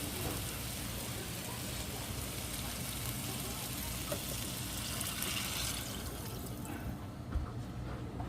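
Water pours steadily into a jambalaya pot holding sausage, beans and Creole seasoning, a continuous rushing splash that runs close and fairly loud for most of its length before thinning out near the end.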